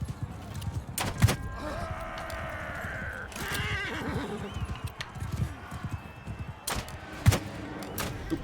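Horse hooves clip-clop steadily through a busy Mount and Blade Bannerlord battle, with several loud neighs and whinnies rising above the din and sharp impact hits punctuating the clatter.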